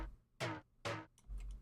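A bucket sample from a music project sounds twice as two short, bright, noisy hits spaced about half a second apart, then a fainter, smeared hit trails off at the end.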